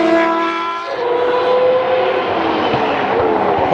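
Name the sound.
historic Benetton Formula One race car driving past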